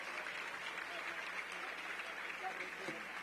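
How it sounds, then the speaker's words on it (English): An audience at a maternal and infant health summit in DC claps for a panel, a continuous, moderately distant round of applause with a voice faintly audible underneath. "May we have a rousing round of applause for our panel"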